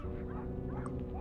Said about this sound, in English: heard a dog